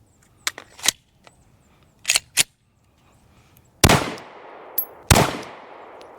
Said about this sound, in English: Let's go ahead and get some rounds downrange.